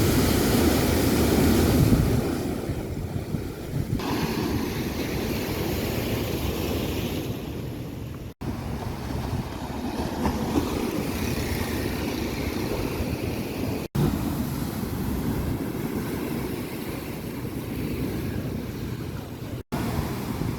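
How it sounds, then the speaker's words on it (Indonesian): Heavy surf from high seas off the Banda Aceh coast pounds against a seawall, a continuous loud roar of crashing water and spray, with brief dropouts and no voices. "Cipratan ombak yang menghantam tanggul meluber hingga ke badan jalan."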